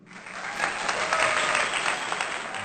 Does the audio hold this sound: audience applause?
yes